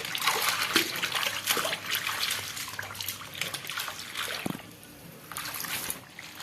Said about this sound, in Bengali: শাকগুলো একটু মাটি মাটি ছিল, তার জন্য ভাবছি বাইরে বসে ধুয়ে নিই